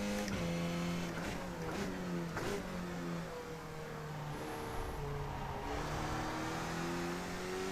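A race car engine in the iRacing sim game revs hard out of a corner, a loud droning whine that climbs in pitch through several gear changes, with no voices over it.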